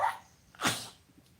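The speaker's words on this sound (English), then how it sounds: "My dog's coughing. My dog's breathing funny." A dog coughing and breathing oddly indoors: a sharp, sneeze-like burst followed by a fainter huff, close to the microphone, with no one talking.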